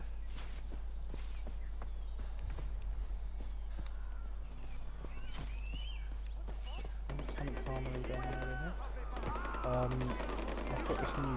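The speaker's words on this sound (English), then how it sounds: "I've got this new gun that I'm trying out, which has unlocked it. It's an F1. And I've stuck a silencer and a scope on it." Suppressed gunfire from a scoped F1 rifle in a video game, a scatter of short muffled shots and clicks spread through the clip among footsteps and game ambience, with a steady low hum underneath.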